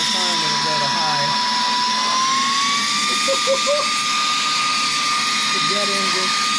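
The Saker 3-in-1 vacuum cleaner, switched to high speed, gives a loud, constant jet-like roar with a whine that climbs slightly in pitch and then holds, while quiet speech is heard briefly underneath.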